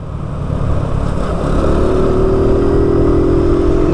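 Honda Biz 125 motorcycle in a video game accelerating, its small engine note rising steadily and holding a loud, close buzzing drone as it climbs through the gear.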